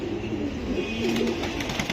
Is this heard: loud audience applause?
no